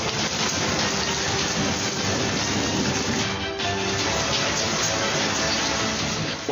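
Heavy rain pours steadily during a thunderstorm around a street corner on Leeds Junction Road, a dense, loud, continuous wash with no break and no distinct thunder clap.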